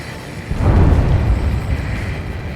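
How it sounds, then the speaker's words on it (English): A huge underwater explosion in the flight combat game Ace Combat 7 sounds as a deep, muffled boom that swells quickly and then rolls on as a low rumble. "A huge explosion just went off underwater."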